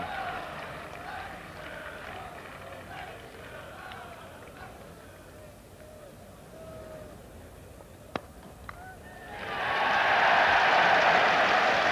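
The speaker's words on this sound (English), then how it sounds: "the cheer goes up" Crowd at Lord's cricket ground swells into a loud, sustained cheer and applause during the 1986 NatWest Trophy one-day final between Lancashire and Sussex, rising sharply near the end after a quieter stretch of commentary-like murmur.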